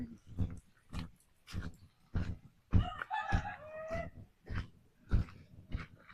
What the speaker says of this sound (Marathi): कोंबडा आरडतो